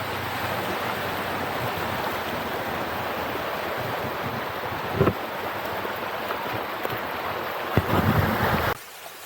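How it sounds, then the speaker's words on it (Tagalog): Ocean surf at Snoopy Island in Fujairah, UAE, rushes steadily as a broad, loud wash with wind buffeting the microphone, with a couple of heavier surges near the end before it cuts off. "Ang alon."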